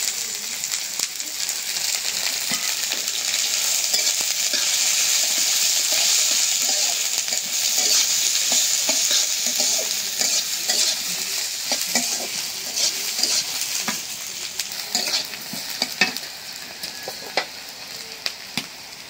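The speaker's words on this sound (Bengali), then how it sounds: "দিয়ে দিলাম পেঁয়াজ, কাঁচামরিচ," Onion and green chili frying with pieces of fish in a hot pan give a steady, loud sizzle with crackling pops and stirring scrapes that continue throughout, with no voices.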